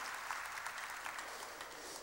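A church congregation clapping during a sermon, a dense, steady wash of applause at a moderate distance, fairly faint and unbroken for the whole stretch.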